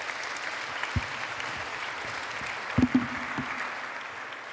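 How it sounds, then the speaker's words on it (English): Steady applause from a church audience at a live-streamed service, moderately loud and sustained for several seconds, with a few sharper thumps partway through and no talking. "let's give these folks a round of applause."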